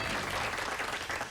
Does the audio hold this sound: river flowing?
no